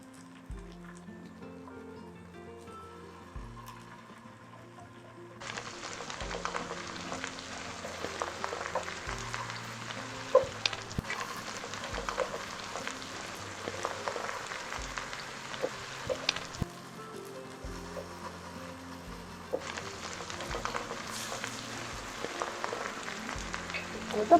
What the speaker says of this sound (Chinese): 然后我们就把它下锅煎定型